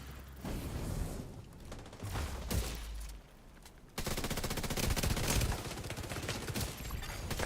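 Automatic gunfire in the shooter game The Division, rapid bursts crackling in close, loud stretches with brief pauses between volleys.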